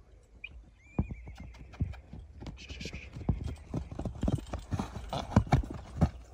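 A horse walks with steady clip-clop hooves, close and fairly loud, and gives a brief whinny early on; someone speaks quietly beneath the hoofbeats.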